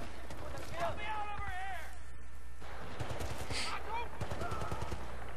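Rapid gunfire cracks from the Battlefield Bad Company 2 Vietnam video game, shots and bursts scattered across a few seconds amid in-game voices and effects, with someone talking over the action.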